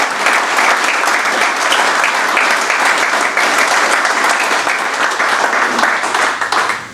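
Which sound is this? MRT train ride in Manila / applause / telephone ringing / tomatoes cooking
applause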